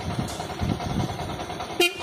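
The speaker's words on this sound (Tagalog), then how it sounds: "Yan, may busina naman." A Yamaha YTX 125 motorcycle gives one short, sharp honk near the end, cutting over the steady rumble of the nearby idling engine.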